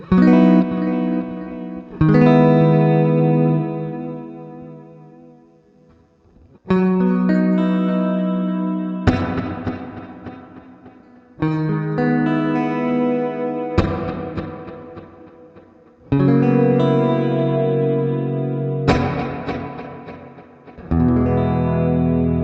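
Guitar chords played through a Source Audio Collider delay and reverb pedal, distorted and drenched in reverb and echo, each chord ringing out before the next strum, with no talking.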